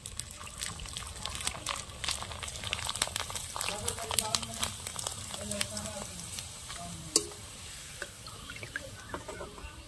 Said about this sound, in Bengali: সব পাঁপড়গুলো ভাজা হয়ে গেছে